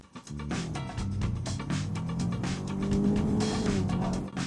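An abandoned car is driven out of snow, its engine revving hard while the wheels spin and whine against the slippery surface. The sound is loud, close and continuous, with no talk.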